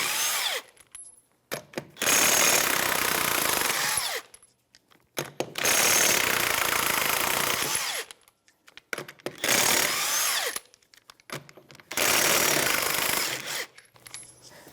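An impact wrench whirs in four long bursts separated by short pauses while removing the 21mm rear wheel lug nuts on a 2013-2018 Toyota RAV4, loud and close with no talk.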